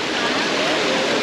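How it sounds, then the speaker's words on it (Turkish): A waterfall in Colombia pours in a steady, dense broadband roar, close and loud without letup throughout. "Sizleri dünyanın sonundaki şelaleye getirdim."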